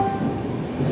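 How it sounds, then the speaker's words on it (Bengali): A train rolling into Asansol station on a cold morning, a steady close rumble of wheels and cars with a faint horn-like tone, no voices over it. "আমাদের ট্রেন ঢুকে গেল ওলফিল্ড"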